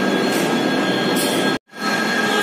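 A metro train rumbles loudly and steadily through a station, its roar cut off by a brief dropout of silence before it resumes.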